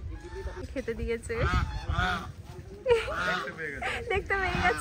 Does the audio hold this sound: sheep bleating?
no